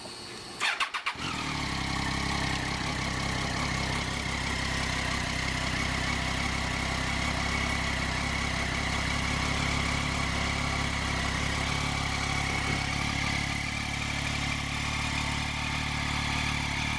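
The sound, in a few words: 2004 SVT Cobra Terminator idling with factory exhaust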